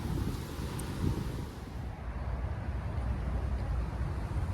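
Wind buffeting the microphone beside an old gravel pit carp lake on an autumn day, a steady low rumbling roar with gusty swells and no talk.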